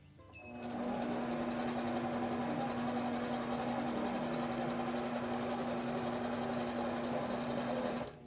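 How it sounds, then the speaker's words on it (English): An Intelliquilter computerized quilting machine stitches in the ditch along an echo line, a steady close, loud mechanical hum with a sustained tone and rapid needle chatter running unbroken after a brief start. "I'm going to move the machine while stitching in the ditch to continue the echo"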